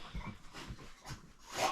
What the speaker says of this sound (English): My dog's going crazy in the back because I just got home.